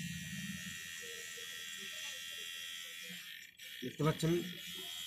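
Repaired electric hair trimmer buzzing steadily with its faulty switch bypassed by a direct short, a continuous high whine running throughout while someone talks over it.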